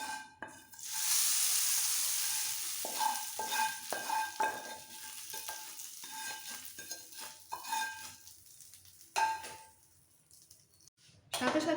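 Hot fried spice tempering poured into coconut chutney paste gives a loud burst of sizzling, followed by a series of spoon clinks and scraping stirs that fade into quieter intermittent taps.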